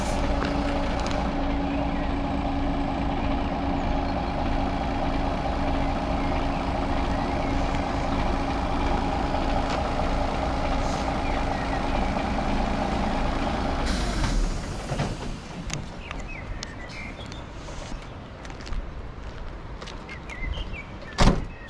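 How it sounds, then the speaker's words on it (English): A lorry engine idles and pulls forward with a steady low rumble for most of the stretch before dropping to quieter cab noise and small clicks. "Pulling the vehicle forward,"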